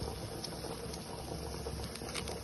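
Steady hiss of steam escaping from a new pressure cooker used for canning, leaking pressure around the lid and side, a continuous close bubbling, sputtering rush with no talk.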